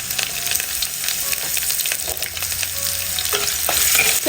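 Mustard seeds, sliced dried red chillies, round-cut shallots and curry leaves crackle in hot coconut oil, a dense close sizzle with scattered pops that swells louder toward the end, no talking.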